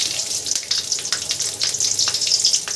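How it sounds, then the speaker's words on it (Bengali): Black cumin seeds and three slit green chillies sizzle loudly in hot oil, a dense, close crackle full of rapid spitting pops that never lets up. "তেল গরম হয়ে গেছে তেলের মধ্যে দিয়ে দিলাম আমি কালো জিরে ফোড়ন আর দিয়ে দিচ্ছি তিনটে চেরা কাঁচা লঙ্কা"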